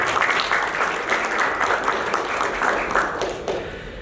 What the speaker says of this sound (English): Ladies and gentlemen, please round of applause for our panelists.